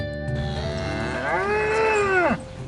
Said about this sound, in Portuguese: 80 vacas por dia são ordenhadas aqui, nessas máquinas.